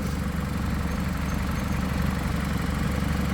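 A 2009 Dodge Journey's engine idles steadily, a low continuous rumble with even vibration throughout, close by and with no voices.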